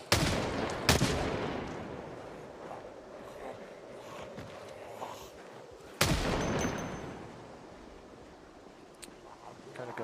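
Gunfire from a police officer's gun in Project Zomboid: two sharp, loud shots several seconds apart, each with a decaying echo, over faint background noise and someone talking.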